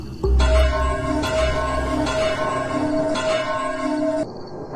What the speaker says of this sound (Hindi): 9 बजने से पहले ही घंटा बज गया।